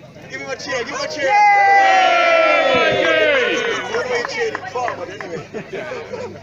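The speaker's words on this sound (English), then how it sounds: "Give him a cheer, give him a cheer." A crowd at a hash gathering bursts into loud group cheering and whooping, swelling to a sustained roar before fading back into mixed chatter and scattered voices.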